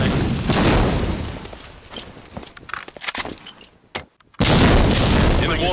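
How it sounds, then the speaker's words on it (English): A grenade explodes in a competitive first-person shooter match, a loud, full-band boom that cuts out briefly and then returns as heavy rumble, with gameplay clatter before it. "For sake, watch my nade, Johnny."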